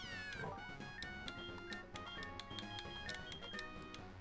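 A cat Pokémon meows in a Pokémon video game, a short electronic cry over layered game music with bright chiming notes and steady beats.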